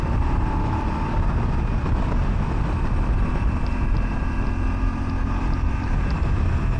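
A Voge DSX motorcycle accelerates with the throttle open, giving a steady, dense engine rumble mixed with heavy wind rush throughout.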